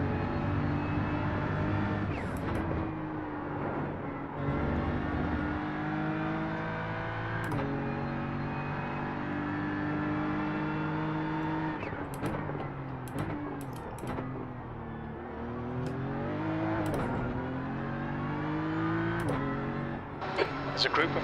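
Race car engines in a racing video game, continuous revving with rising and falling pitch as gears shift, cars passing close by, under intermittent talk.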